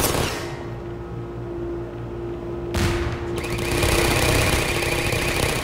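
Explosions and bursts of gunfire crack through a firefight in the video game Half-Life 2, a sharp blast near the start and another dense burst midway, followed by sustained rattling combat noise.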